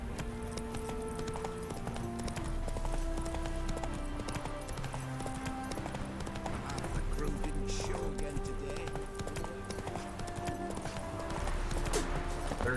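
A horse gallops across open ground in The Witcher 3, hooves clip-clopping in a steady rhythmic beat, with game music and ambience underneath and a voice briefly speaking.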